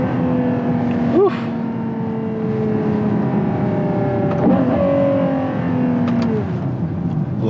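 A Ferrari Purosangue's engine revs in neutral while the car rolls down the road, loud, close blips rising and falling over steady drive noise, with two clear rev swells.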